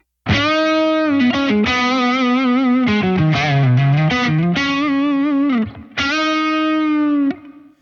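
An electric guitar played through an Origin Effects Revival Drive Hotrod Edition overdrive pedal, a gritty sustained phrase of bending, held notes rich in buzzy overtones, loud and continuous with a short break.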